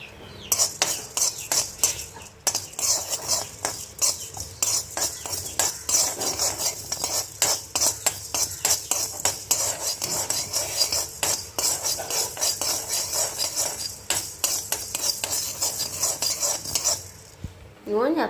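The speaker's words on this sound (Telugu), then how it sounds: "ధనియాలు ఫ్రై చేసుకున్నాం. జీలకర్ర ఎమ్మిటే ఫ్రై అయిపోద్ది." Coriander seeds and cumin fry in a pan while a spoon stirs them, making repeated scraping clinks over a light steady sizzle for a long stretch.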